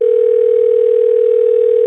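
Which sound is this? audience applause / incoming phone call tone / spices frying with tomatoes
incoming phone call tone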